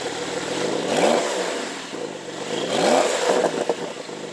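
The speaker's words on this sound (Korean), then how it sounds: "실제 머플러 사운드도 이전보다는 많이 커졌습니다." A Porsche 911 Carrera 4S (992) engine and exhaust in sport mode rev twice, each blip swelling and falling away, heard close with a throaty burble between them.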